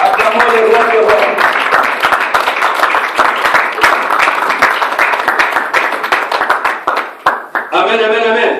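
A church congregation at a Sunday service gives sustained, dense applause with a rapid clatter of many hands. A voice rises briefly over it near the start and at the end.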